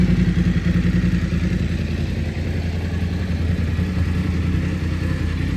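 BMW F850GSA motorcycle idling on its center stand after a service, a loud, steady low engine rumble with a continuous even throb, close up and unbroken throughout, no voices.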